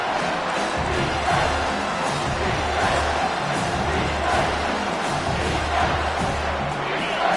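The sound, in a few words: stadium crowd cheering in College Football 25 video game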